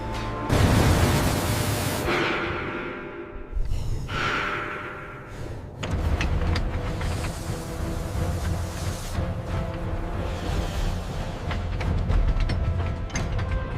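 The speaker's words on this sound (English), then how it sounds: "the heavy-duty pneumatic wrench secures the carrier. Every bolt torqued evenly" Heavy-duty pneumatic wrench tightening bolts on a Chevrolet G506 4x4 truck carrier in a factory: a loud, continuous mechanical clatter with ratcheting rattles and bursts of grinding, no voices.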